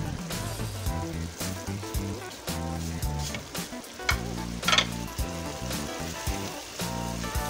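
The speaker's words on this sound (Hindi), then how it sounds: "अब मसालों को अच्छी तरह से भून लेंगे।" Ground spices such as turmeric, chili, coriander and cumin sizzle steadily in a pan for a chicken and ridge gourd dish, with intermittent stirring scrapes and a soft backing of music.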